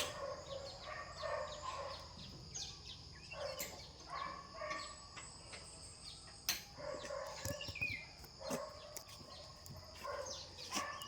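A rooster crows repeatedly amid other clucking fowl and bird calls, moderately distant, in a quiet outdoor yard with no talking.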